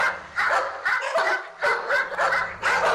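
Several dogs bark in a sound effect for a horror story, loud close bursts of yapping and growling in irregular clusters with short gaps between.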